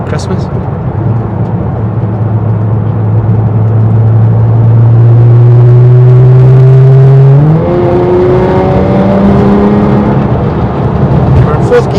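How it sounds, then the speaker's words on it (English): 640bhp Nissan GT-R on air ride accelerating through a tunnel, its exhaust a loud, reverberant rising drone that climbs steadily in pitch, breaks with a gear change, then climbs again. "everybody wants to hear the exhaust"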